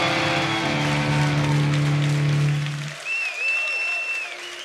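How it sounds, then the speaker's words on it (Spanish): Loud applause and cheering from a concert audience at a live rock show in Madrid, a dense sustained roar that fades after about three seconds, followed by a sustained tone and quieter crowd noise. "¡Ese aplauso fuerte!"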